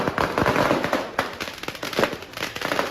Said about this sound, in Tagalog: pagpatak ng alas 12 sa Cebu City, kanya-kanyang pasiklaban ng mga biniling paputok ang mga residente.